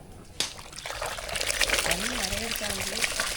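Washed rice tipped into a pot of boiling water, a sharp splash followed by continuous pouring and bubbling liquid, close by, with a person talking over it.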